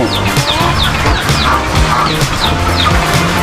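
Three backyard chickens, one a mestizo fighting-cock type, cluck repeatedly in short, uneven bursts close by, with occasional sharper calls and light rustling during a rainy season.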